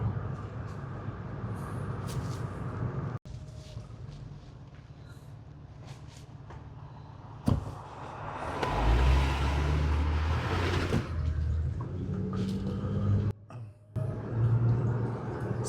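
A car driving southbound along a rural park road, with a steady low rumble of engine and tire noise that swells louder midway, broken by a couple of sharp knocks and a brief dip near the end.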